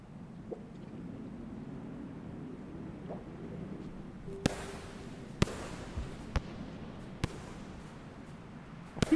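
Bombs exploding in the video game Rain World: several sharp, isolated blasts spaced a second or so apart over a low, quiet ambient hum, each a sudden crack with a brief tail.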